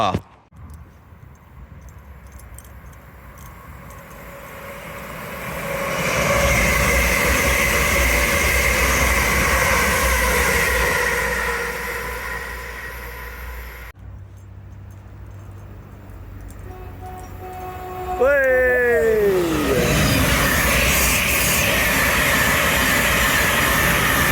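A Class 700 electric train passing on the East Coast Main Line at Hatfield, a rising rush and rumble that swells, eases, then returns louder with tonal whines, with people chatting nearby.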